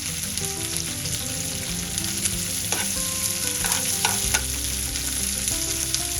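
Chopped onion sautéing in hot oil in a pan with other vegetables for homemade egg fried rice, a steady close sizzle with occasional scraping stirs throughout.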